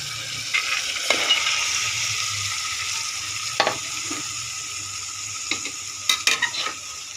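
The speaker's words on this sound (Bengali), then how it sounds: "আমি এবার ছোলাটা দিয়ে দেব" Dry, unboiled chickpeas sizzle steadily in hot oil for a beef liver chickpea dal. A continuous frying hiss runs throughout, punctuated by sharp scrapes and clinks of stirring against the pan, with no talk.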